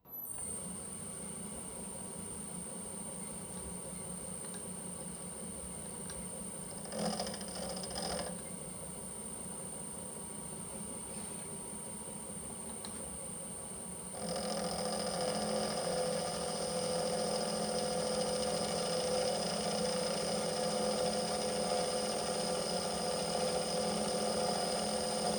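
Harrison milling machine with a titanium-coated end mill turning at about 800 RPM, a steady mechanical hum and high whine throughout that grows louder and brighter partway through, with no talking.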